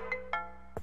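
A phone ringtone sounds in a few short tonal chirps, close and clear, followed by a brief thump, with no speech.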